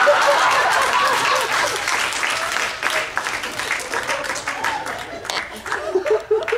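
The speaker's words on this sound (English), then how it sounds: "Give him a big round of applause, okay?" A live comedy crowd at Penn State Fayette breaks into loud applause for a ventriloquist's dummy, with scattered chuckles mixed in, then the clapping tapers off over the seconds.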